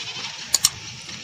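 A goat on a grazing farm gives two very short, close bleats in quick succession over steady outdoor background hiss.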